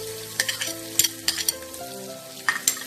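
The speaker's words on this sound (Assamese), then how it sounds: "গৰম মছলাখিনি অকণমান ভালদৰে ভাজি এতিয়া পিঁয়াজখিনি যোগ কৰি দিম।" Onions frying with whole garam masala in a pan for dal tadka, a soft steady sizzle broken by several sharp scraping stirs, close and without talk.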